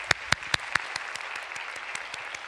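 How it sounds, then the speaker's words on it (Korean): Sparse, slow handclaps from a small church gathering for young adults, with a few loud, distinct claps at first and then softer, evenly spaced ones that thin out steadily. "우리 격려의 박수 한번 쳐주면 좋을 것 같습니다"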